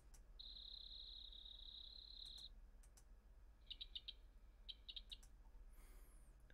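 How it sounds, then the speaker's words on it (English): Cricket chirp sound effects: a faint, high, sustained trill followed by clusters of short chirp bursts over quiet background hiss. "Frog cricket chirps is what I'm getting here."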